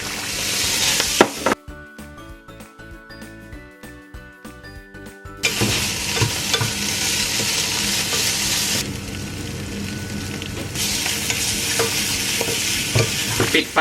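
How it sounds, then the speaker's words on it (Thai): Clams stir-frying in olive oil with instant noodles, a steady loud sizzle under scraping stirring, a rhythmic clattering stretch early on, then continuous frying with spatula scrapes. "นี่ออลิฟออยล์หอยลายปุ้มปุ้ยนะ ใส่ลงไปเลย ผัดให้หอมพอนะทุกคนแล้วก็ใส่เส้นลงไปเลยค่ะ"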